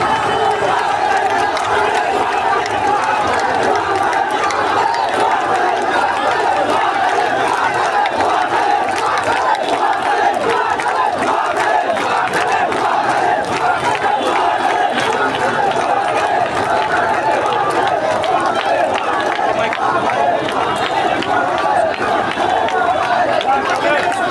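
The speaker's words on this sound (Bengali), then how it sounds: "নোয়াখালী বিভাগের দাবিতে কিন্তু এই স্লোগান আছে এবং আন্দোলনকারীরা এই শাহবাগ অবরুদ্ধ করার চেষ্টা করতেছে" Protesters demanding a Noakhali division chant slogans while blockading Shahbag, a dense, steady roar of many voices from a large crowd that never lets up and holds at a constant loud level.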